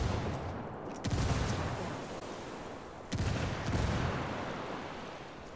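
Frag grenade blasts and gunfire in the Ghost video game during PvP play: two heavy booming bursts about two seconds apart, each followed by a rumbling, crackling decay over a steady noisy battle background, with no talk.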